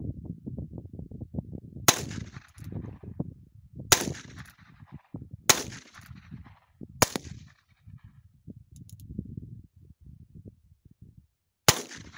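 A Cimarron 1875 Outlaw revolver fires five sharp, loud single shots spaced about two seconds apart, then one more after a longer gap, with a low murmuring background between shots.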